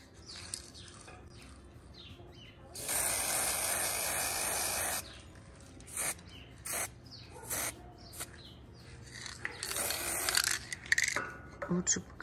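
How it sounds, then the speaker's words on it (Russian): Black aerosol spray paint hisses from a can onto a scrap-metal steampunk ashtray in two sustained bursts, several seconds apart, with quieter handling noises and a little faint talk between them. "И сейчас буду покрывать черной краской. Краска вот такая вот из баллончика."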